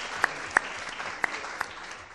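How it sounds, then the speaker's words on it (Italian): Sparse applause from an award ceremony audience: a handful of scattered, distinct claps, two or three landing sharply louder, over a quiet room. "Allora, doppio applauso, Polaris Real Estate, complimenti."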